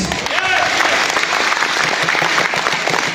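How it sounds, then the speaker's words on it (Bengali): Sustained audience applause at a DXN business event, dense and steady clapping filling the room throughout with a voice briefly audible over it. "আমি আমার আপলাইনের জন্য একটু করতালি যাচ্ছি।"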